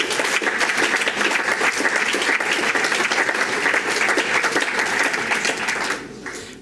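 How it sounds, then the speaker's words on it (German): A large audience at a party conference applauds loudly and continuously after a political opening speech, a dense roar of clapping that fades slightly at the very end. "Applaus"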